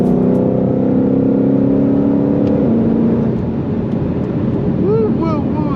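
A Ford Mustang Shelby GT500 pulls hard under heavy throttle, its loud, dense engine roar steady and close before the pitch shifts and rises near the end.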